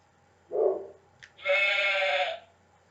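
A sheep bleats twice, a short low bleat followed by a longer, louder wavering cry, close by in an otherwise quiet setting.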